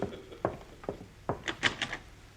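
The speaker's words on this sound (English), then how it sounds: "there's someone at the door, Yasha." A door is handled up close: a few dull thumps and clicks spaced apart, followed by a quick rattling clatter as it moves.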